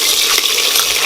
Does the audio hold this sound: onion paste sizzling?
yes